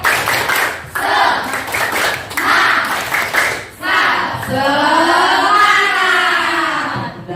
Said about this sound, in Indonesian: kita tepuk semangat dulu sebentar ya